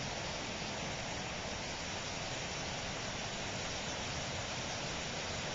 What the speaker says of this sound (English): Can you hear that creek?